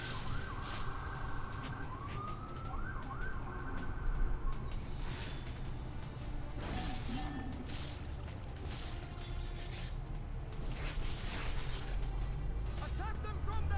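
Police and ambulance sirens wail faintly in the distance, rising and falling, with clanks and mechanical noises over a steady background, in the PC game The Last Remnant.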